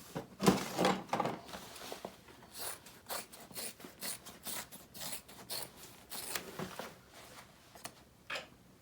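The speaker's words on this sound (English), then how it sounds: "Then you can trim that seam allowance." Fabric scissors trim a seam allowance on a handbag, making a quick string of close, crisp snips and rustling cuts with no one speaking.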